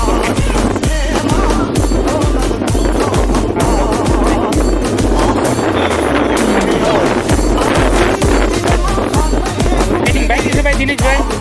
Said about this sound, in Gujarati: બાઈક છે ભાઈ